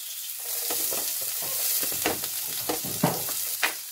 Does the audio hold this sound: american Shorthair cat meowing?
no